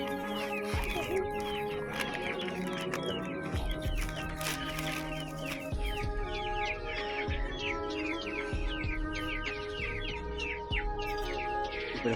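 Desi and tiger chickens cluck and chirp repeatedly while pecking at their feed, a busy overlapping chatter of short calls close by, with occasional soft thuds underneath.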